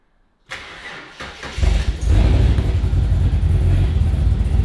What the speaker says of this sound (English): All we need to do is just start the car